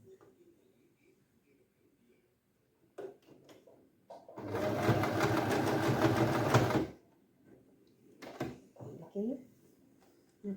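A sewing machine runs in one close, continuous burst of rapid stitching on a silk skirt, lasting a few seconds, with a voice talking before and after along with small handling clicks.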